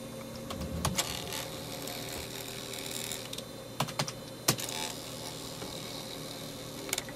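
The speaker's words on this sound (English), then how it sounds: "keep your eye on this 4-wire stepper motor" A 4-wire stepper motor driven from a parallel port through an external driver board chatters with quick clicks and ticks over a steady mechanical hum, with a few sharper snaps standing out; no one speaks.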